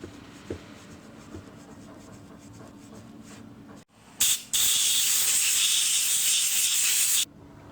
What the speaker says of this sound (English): Only scrape the dirt off.